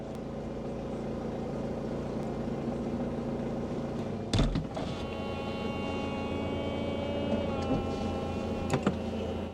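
Electric folding roof of a Mercedes SLK working under a steady motor hum, with a sharp mechanical clunk partway through, a strained whirring after it and a second knock near the end.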